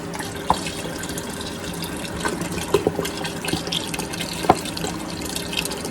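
Thirty-two ounces of boxed beef broth pour into a pot of hearty beef barley soup, making a steady liquid gurgle with a few small splashes and glugs, close and without speech.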